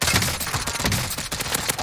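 Rapid gunfire from a DMR 14 rifle in Call of Duty Warzone on Rebirth Island, dense close shots cracking in quick succession with no pause.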